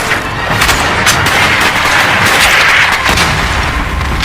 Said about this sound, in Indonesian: Ling Feng sebagai sniper berhasil menembak beberapa orang tentara Jepang.